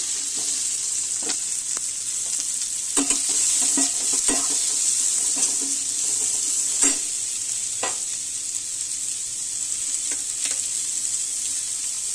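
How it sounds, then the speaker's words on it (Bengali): Chopped onions sizzle in a hot pan as the chicken filling begins, a steady close hiss broken by a few sharp stirring scrapes and clicks, with no talking. "এবার চিকেনের পুরটা তৈরি করে নেব। তার জন্য পেঁয়াজ কুচি দিচ্ছি"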